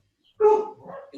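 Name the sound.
small dog barking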